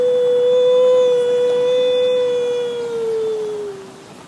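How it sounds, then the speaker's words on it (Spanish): La Llorona's wailing lament as a sound effect: one long, loud, howl-like cry that holds a steady pitch, sags slowly downward and fades near the end, with no talking. "solo se escuchaba el lamento."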